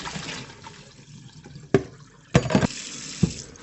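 Running tap water splashes as something is rinsed under the faucet, a soft continuous stream broken by a few louder splashy bursts and knocks, close by with no talking.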